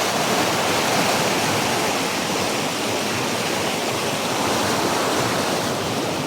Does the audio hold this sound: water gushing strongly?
yes